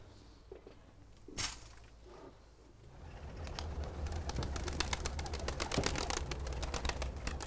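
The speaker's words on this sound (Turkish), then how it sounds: "Yarışmalara güvercin hazırlıyoruz." Racing pigeons at a loft being prepared for races coo and flutter close by, a soft steady chorus of calls and rustling with no talking.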